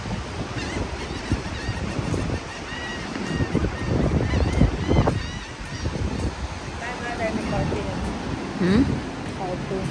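Birds honking and squawking near a spot where people feed seagulls, with repeated calls over steady wind and surf-like noise and people talking throughout.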